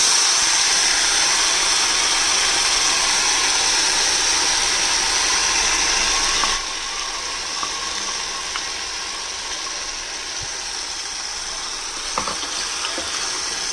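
Ground spice paste goes into caramelized sugar for a gobi musallam and fries with a loud, steady sizzle. Partway through the sizzle drops to a softer, continuous crackle with occasional faint stirring clicks.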